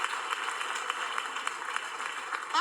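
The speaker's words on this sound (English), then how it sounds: "of course, the women are gonna clap" Women in an audience applauding, a steady, even patter of many hands clapping at moderate volume from a short distance, continuous for the whole span with no talk over it.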